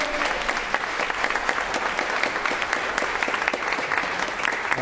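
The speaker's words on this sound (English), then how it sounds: "we want to give them a round of applause and appreciation" A church congregation at a Sunday service claps in sustained, dense applause that fills the room evenly from start to finish.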